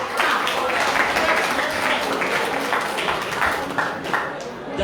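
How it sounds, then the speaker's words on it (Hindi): At a singing competition in the Vishnu Laxmi Narayan Mandir temple in Savusavu, an audience claps in a steady rhythmic beat, loud and continuous over a hall full of sound. "अरे कुछ तो ताली बजाओ"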